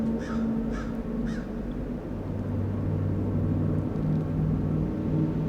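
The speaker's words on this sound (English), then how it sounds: "The crows." Three crows caw in quick succession near the start, clear over a low, steady outdoor rumble that continues alone afterward.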